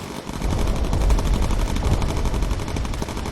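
Bomber aircraft machine guns fire in the video game Bomber Crew, a loud, dense, continuous rattle of rapid shots with no pauses.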